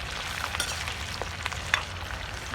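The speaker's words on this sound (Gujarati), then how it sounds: "ગરમ મસાલા તેલમાં સંતળાયા ને અને બટાકા નાખીએ" Soft, steady sizzling of garam masala spices and potatoes frying in hot oil, with a few faint clinks and pops scattered through the quiet hiss.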